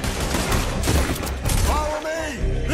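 Pistol gunfire in Red Dead Redemption 2, two pistols firing during a shootout, with a dense run of loud sharp shots over busy game sound and music, with a brief lull near the end.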